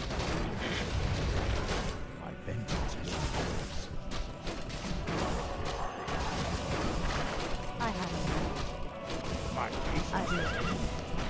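Horses whinny and neigh amid dense, busy Warcraft 3 game sounds of hooves, clashes and battle noise, with voices talking over the mix.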